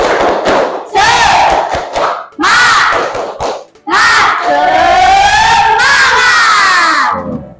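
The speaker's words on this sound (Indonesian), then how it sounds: "Coba kita tepuk semangat. Tepuk semangat." Schoolchildren in a classroom lesson shout a spirited clapping chant in unison, loud and close, in several bursts separated by brief pauses, the final one longer and sustained.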